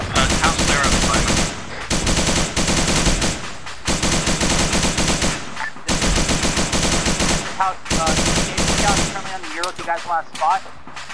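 Sustained bursts of automatic gunfire in a Vietnam War video game, loud and close, firing in repeated long strings of rapid shots broken by short gaps, with a voice shouting near the end.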